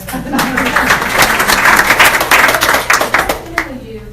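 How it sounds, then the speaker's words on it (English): A small audience at a candidate forum claps in a short burst of irregular, close handclaps that taper off after a few seconds, with voices murmuring underneath. "y'all can clap for me"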